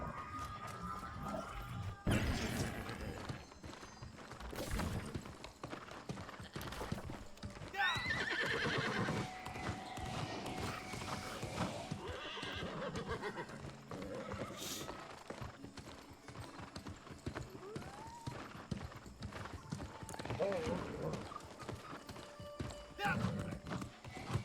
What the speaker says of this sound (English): The horse only makes horsey noises.